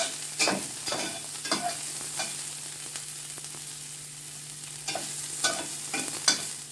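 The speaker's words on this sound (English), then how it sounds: "And you saute it." Chicken chop suey sautéing over low heat, a soft steady sizzle broken by repeated scraping stirs of a spatula against the pan, each stroke a short bright burst, with no talking.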